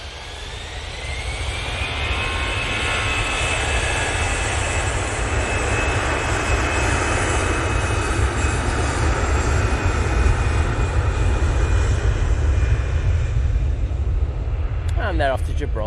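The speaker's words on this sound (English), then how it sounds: "EasyJet, now on the roll." EasyJet airliner rolling down the runway for takeoff, a broad steady jet roar with a rising whine holding loud throughout, with some speech heard along the way.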